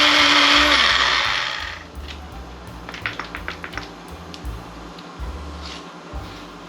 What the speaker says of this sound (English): We're gonna put this top on and we're gonna blend this until it becomes a really nice paste.